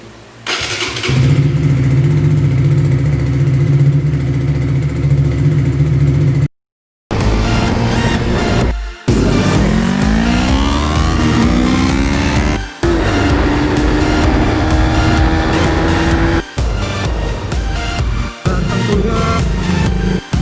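A motorcycle is started at home after an oil change: a brief starter whir, then the engine catches and runs loudly and close, idling and revving in surges with short gaps.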